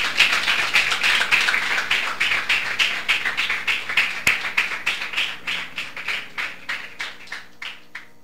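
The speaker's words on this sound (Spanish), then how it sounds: "Denle nos ofrenda aplauso al Señor." A church congregation claps in a steady rhythmic pattern for about eight seconds, the beats gradually thinning and fading toward the end.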